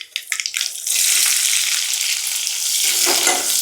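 Onions frying in hot oil with mustard and cumin seeds for a Bommidaalu curry: a few crackling pops as they hit the pan, then a loud, dense, continuous sizzle with a hint of stirring near the end.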